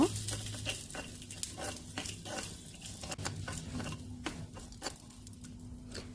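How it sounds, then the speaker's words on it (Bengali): Boiled potatoes and peas are lightly fried and stirred in a small pan while cooking paneer curry in a miniature kitchen: a faint sizzle with soft, irregular scraping and tapping of a utensil, close and quiet. "তো মটরটাও দিয়ে দিলাম, দিয়ে একটু হালকা ভেজে নেব।"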